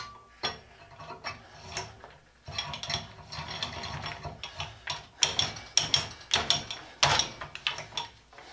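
Hand drill with a ratcheting gear mechanism grinding through a weld in the beam of an 1890s treadle grinder; close, uneven bursts of clicking and metal-on-metal cutting that stop and restart in short surges, with no talk.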